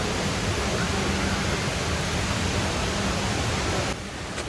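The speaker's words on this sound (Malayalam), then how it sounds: "വെള്ളച്ചാട്ടമാണ് അതിമനോഹരമായ വെള്ളച്ചാട്ടം ഈ ഒരു മാളിൻ്റെ ഉള്ളിലാണ് കേട്ടോ സെറ്റാക്കിയിട്ടുള്ളത്" A tall indoor waterfall inside a Dubai mall pours as a dense, broad, steady roar that fills the space, loud and unbroken, easing slightly at the very end.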